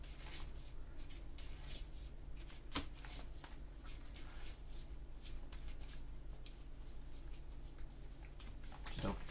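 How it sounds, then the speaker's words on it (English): Weiss Schwarz trading cards are shuffled with rapid crisp riffling and snapping clicks, close and fairly quiet, repeating throughout. "Shuffle two cards back in."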